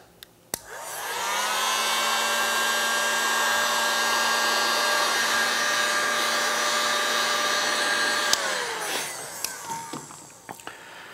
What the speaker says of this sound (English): it's real important to heat the grip with a hairdryer